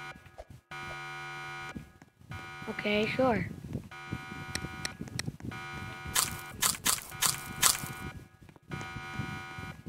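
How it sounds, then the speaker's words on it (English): An alarm goes off in the Roblox video game, repeated electronic buzzing bursts that grow more insistent toward the end, with people talking over it. "An alarm's going off."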